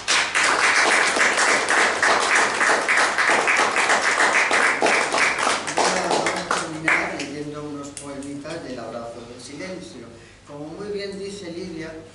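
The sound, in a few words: audience applause at book presentation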